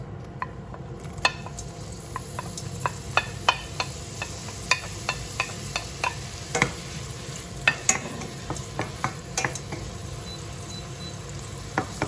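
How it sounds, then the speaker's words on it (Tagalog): Onions sauté in a pan with a steady, close sizzle. Frequent crisp ticks and scrapes of stirring run through it, and no one speaks. "magigisa tayo ng sibuyas"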